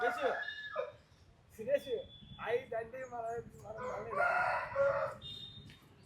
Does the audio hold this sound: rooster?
yes